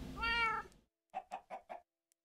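A Minecraft cat gives one drawn-out meow, then after a short pause four quick, soft chirping mews in a row, clear and isolated against silence.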